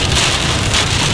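Hail pelts hard surfaces during a violent tornado-producing storm in northeast Texas, a loud dense clatter of impacts close by that continues without a break, with no talking.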